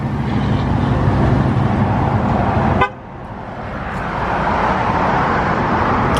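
Traffic passing through a Home Depot parking lot, a loud steady road roar with a short car horn toot partway through, after which the rumble dips and then builds back up, with no talk.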